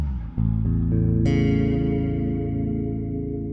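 An electric guitar played through an FT Elettronica Subversive Propaganda envelope filter pedal with its distortion switch engaged, a few picked notes followed by a ringing chord that sustains and slowly decays, with a buzzy, effected tone.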